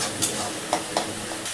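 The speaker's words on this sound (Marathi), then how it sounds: "ती भाजी टाकूया आता. झाकण ठेवून 2 मिनटं शिजवून घेऊया." Kurdu vegetable cooking in a covered pan, a continuous faint sizzle with a few tiny crackles and pops.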